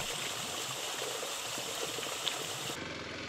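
Water pours steadily from a roadside spring along a forest road, a continuous close rushing trickle that fills the whole moment before it cuts off abruptly near the end.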